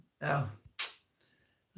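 A single sharp sneeze bursts out near the microphone, set between brief stretches of nearby voice.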